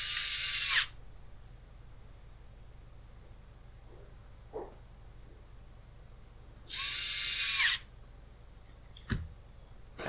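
A power driver used while replacing the coil on a Husqvarna 128LD trimmer gives two short, loud bursts of whirring, each under a second, with quiet gaps and a few faint clicks between them.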